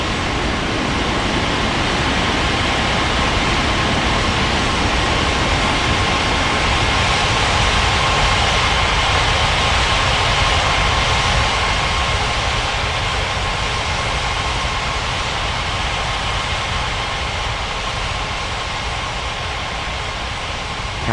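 Airliner jet engines roar steadily during takeoff in the air traffic control game Unmatched Air Traffic Control, a loud continuous broadband rumble with a faint whine that holds for the full stretch, with no voices.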